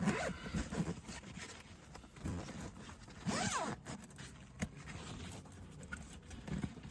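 Zipper on an Angling Direct Advanta luggage bag being pulled closed, a series of quiet rasping zips with rustles and handling noises in between, close and faint.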